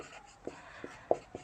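Writing on a board during a physics lesson makes four short, faint taps and strokes, spaced a fraction of a second apart, with no talking.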